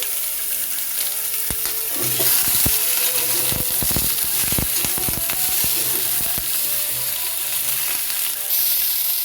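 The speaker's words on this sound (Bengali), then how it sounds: "নুন দিয়ে কিছুক্ষণ ভেজে নেওয়ার পর দিয়ে দিচ্ছি হলুদ।" Potato, pointed gourd and drumstick pieces frying in a pan with a little salt, a loud, steady sizzle broken by bursts of metal scraping and clatter as the vegetables are stirred.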